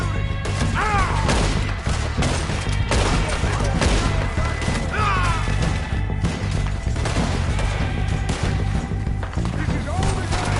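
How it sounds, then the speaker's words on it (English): Gunfire in Red Dead Redemption 2 during a shootout at a water tower, rapid repeated shots and crashes over continuous loud game music and shouted talk. "Firearms shooting!"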